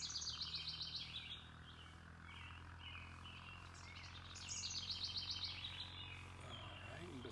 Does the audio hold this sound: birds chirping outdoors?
yes